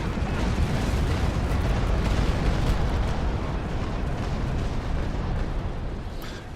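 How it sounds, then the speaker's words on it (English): A frigate's cannons fire a broadside in the Naval Action naval combat game, a dense rolling roar of overlapping blasts sustained for several seconds, loud and close. "he will be in a good position for me to open fire right about now. Fire!"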